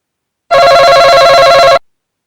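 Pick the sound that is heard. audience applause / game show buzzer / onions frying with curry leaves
game show buzzer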